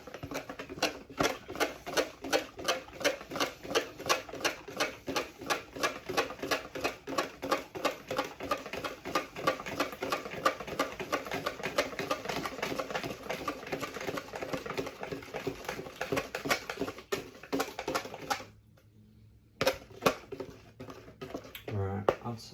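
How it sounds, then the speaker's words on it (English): Rapid, steady whisking with a whisk against a bowl while hot liquid is slowly drizzled in from a pan for Boston crème filling; close rhythmic clatter runs nearly continuously, then briefly drops out near the end. "it's hard to whisk constantly when you're holding a hot pan of liquid"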